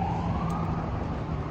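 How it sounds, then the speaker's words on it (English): A police car siren wails on a Vancouver street near the Rogers arena, its rising tone sounding fairly close above steady traffic noise. "police sirens"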